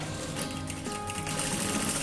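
A sewing machine runs steadily, stitching elastic for a triple pencil case. The dense mechanical whir continues throughout at a constant, moderately loud level with no talk.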